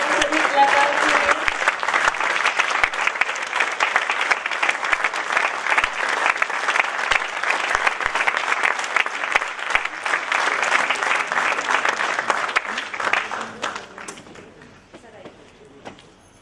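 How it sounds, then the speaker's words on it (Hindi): An audience claps loudly and steadily for theatre actors after a stage performance, with dense sustained applause that fades away over the last few seconds. "बार जोरदार तालियां हमारे सभी कलाकार के लिए"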